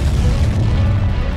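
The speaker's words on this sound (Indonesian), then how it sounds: "Dia auto meledak guys." A bomb blast in the Skibidi Toilet animation, a loud, sustained booming rumble with heavy low-end roar running through the whole moment, no voices.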